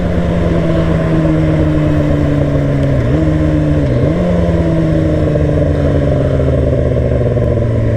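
A motorcycle engine idles loudly and steadily nearby, its low drone dipping briefly twice as the throttle shifts.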